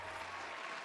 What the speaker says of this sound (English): Oh yeah, round of applause.